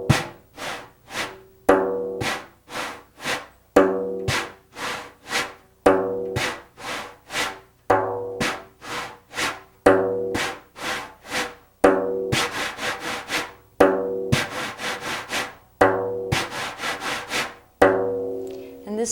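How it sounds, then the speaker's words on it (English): Brushing strokes on a wooden surface in an even, steady down-and-up rhythm, each swish close and distinct, repeating regularly for the whole stretch with no talk. "And this brushing sound is connected to the elemental energy of air."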